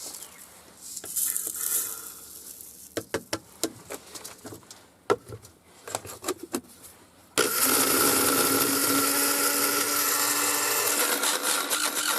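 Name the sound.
blender being wrecked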